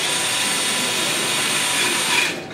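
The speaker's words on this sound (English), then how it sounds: "So we'll drive this fastener, and it will be nice and tight," A Milwaukee One-Key power driver drives a fastener into wood with a steady, loud whirring buzz that slows and drops off at the end, close by and without talk.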